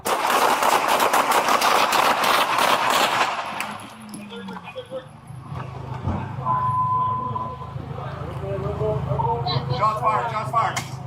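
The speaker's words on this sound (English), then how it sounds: "Shots fired, shots fired." Police officers open fire on an armed intruder, starting with a dense rapid burst of loud gunshots, followed by ringing, clanking and distant engine noise.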